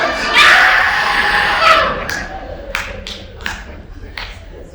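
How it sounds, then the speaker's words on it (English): An audience at a live stand-up comedy special breaks into loud applause and cheering that swells, then thins into scattered claps and taps as talk resumes. "We don't need to clap there."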